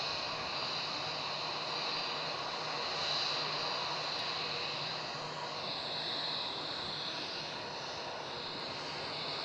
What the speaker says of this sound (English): There we go, our Emirates 380, first of the evening, taxiing out.